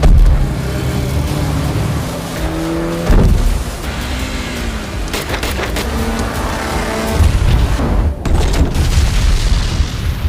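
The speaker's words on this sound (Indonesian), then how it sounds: "kapal yang ditumpangi Jack ngacang dan meledak di semak-semak" A loud, roaring boat engine rumble is punctuated by heavy booming impacts as the boat crashes and explodes in bushes, with a crashing burst near the start and more thuds toward the end.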